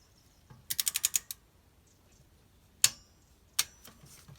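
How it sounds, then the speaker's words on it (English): Socket ratchet on a spark plug in a Nissan Micra K11 engine: a quick run of about seven sharp clicks, then two isolated louder clicks later, close and clear with no talking. "when you're tightening it, you don't want to do this with your spark plug socket"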